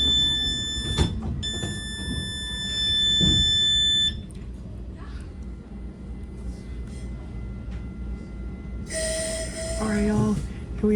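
A Caltrain Limited commuter train, number 425, pulling out of San Mateo Station in the evening: door-closing chime tones and a recorded announcement, then rumbling departure, with a high electronic tone near the end.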